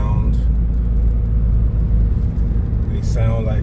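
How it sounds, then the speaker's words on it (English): Loud, constant road roar from Falken Azenis RT615K tires on a moving car, a dense low rumble heard from inside the cabin with brief talk over it toward the end. "this is just to let you guys hear how the tires that I have on the car, actually. I forgot to mention that these tires have like a really loud sound."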